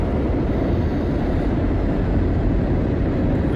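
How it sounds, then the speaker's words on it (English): A train roars past through woods, a loud, dense, steady rumble with broadband noise filling the whole stretch and no voices over it. "We've missed the train."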